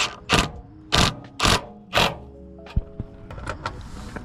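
A torque wrench tightens running board bracket screws on a 2024 Toyota 4Runner: four loud, close ratcheting bursts in a regular rhythm, then fainter clicks and scrapes as the tool settles.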